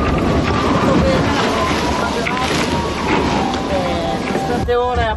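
A Maserati Multi70 racing trimaran sails fast through open ocean in 20-knot winds during a transatlantic race, with constant loud wind buffeting the microphone and rushing water and spray roaring past the hull.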